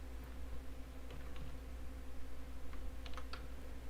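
Soft, scattered clicks of typing on a computer keyboard, light and irregular under a steady hiss and low hum, with no voices.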